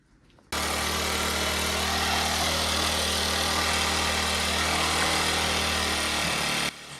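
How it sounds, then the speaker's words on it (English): A Bajaj Pulsar motorcycle engine under restoration starts abruptly and runs at a loud, steady, close idle for about six seconds before cutting off. "Now the bike is even running without petrol."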